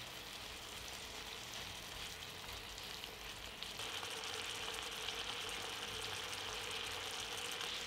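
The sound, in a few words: pork fillet medallions frying in butter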